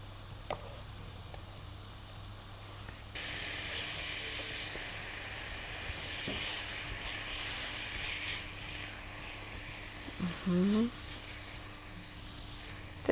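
Garlic added to a hot pan for Mexican nachos, frying with a steady, soft sizzle that holds for several seconds, broken by a few faint clicks and a brief clatter near the end.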